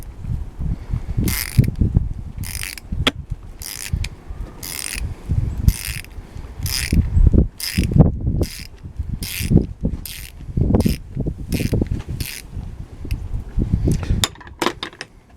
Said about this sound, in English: Now we notice that will turn our nut and bolt counterclockwise.